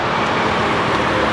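A custom Toyota 4Runner's engine sends out a loud, steady rumble that mixes with surrounding road noise, close by and without pauses.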